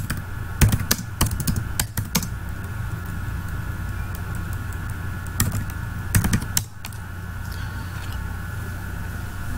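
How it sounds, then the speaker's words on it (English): Commands typed on a computer keyboard, a steady patter of close key clicks with a few quick clustered bursts over a constant background hum, no talking. "when I'm typing the command SQL plus access DB"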